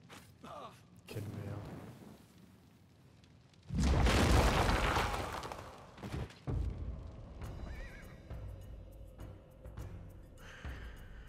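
A horse neighs loudly in the video game Wartales, one sustained whinny bursting out mid-clip over a bed of battle sounds and hoofbeats, with game effects continuing afterward.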